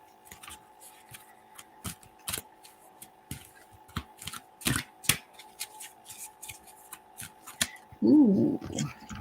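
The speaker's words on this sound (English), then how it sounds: "So let me throw some cards out." Tarot cards being shuffled and laid out on a table. Quiet, sharp taps and flicks come in an irregular series, with a short murmur of voice at the end.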